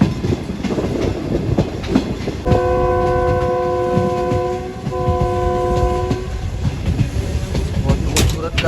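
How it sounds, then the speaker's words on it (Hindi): A Shalimar Express passenger train rolls along the tracks departing Lahore, a steady rumble and rattle of wheels with a long horn blast held for several seconds in the middle. "हमारी ट्रेन रवाना हो गई है।"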